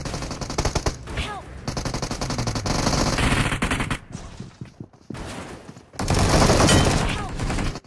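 Automatic gunfire in BGMI fills the clip in dense rapid bursts, loud and close, pausing briefly before another heavy volley near the end as the player is taken down.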